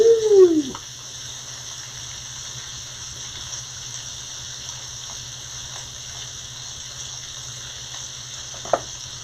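Lamb chops sear in a pan with a steady, close sizzle and a constant background hum, plus a brief scrape near the start and another near the end.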